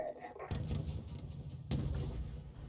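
Two heavy booms of artillery fire in Wargame: Red Dragon, each a sharp blast with a rumbling tail, spaced about a second apart.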